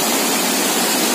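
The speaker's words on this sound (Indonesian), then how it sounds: "Akhirnya kita menjumpai sungai" Steady broadband rush of a river flowing, loud and close, continuous without breaks and no voices.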